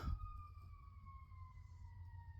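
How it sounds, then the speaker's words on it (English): Faint siren wailing outside, a steady drawn-out tone slowly sliding lower in pitch as it passes at a distance over low background rumble, with no talking. "Distracted by a siren."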